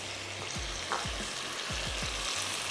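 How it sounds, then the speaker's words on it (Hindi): Masala of onion, ginger-garlic paste, whole red chilies, salt and black pepper fries in oil in a pan, a dense, close sizzle broken by several soft thuds of stirring. "भून लेते हैं अपना ये मसाला,"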